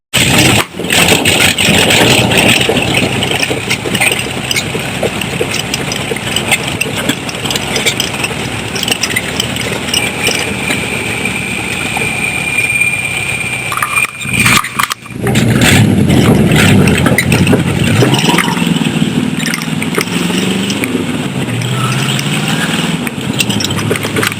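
A rat rod roadster's engine runs steadily and loudly for over twenty seconds with a rough, raspy note, briefly dipping mid-way before resuming, heard close up.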